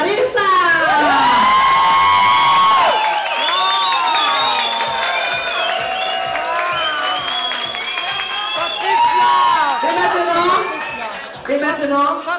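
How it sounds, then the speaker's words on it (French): A studio audience at a French talent show cheering, whooping and applauding a contestant, loud and sustained with shrill voices rising over the clapping. "Vous, applaudissement pour Larissa!"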